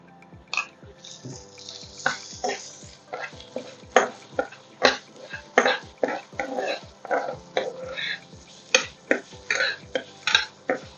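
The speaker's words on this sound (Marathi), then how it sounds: "लसूण चांगला परतून झाला की आपण हा बारीक चिरलेला कांदा घालणार आहोत." Garlic and finely chopped onion sautéing in a pan for coxinha chicken stuffing, stirred with repeated scraping strokes over a steady low sizzle, close and moderately loud.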